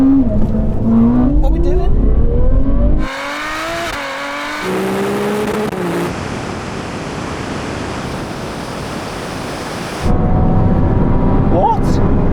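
Ferrari V12, V8 and V6 cars in a rolling drag race from 30 mph in second gear, engines revving loudly and rising in pitch with a roaring wind-blasted stretch, a voice speaking briefly at the start.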